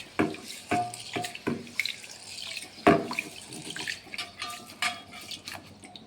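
Water splashes and sloshes in a bowl as fenugreek seeds are rinsed by hand, with intermittent swishes, drips and light knocks against the container.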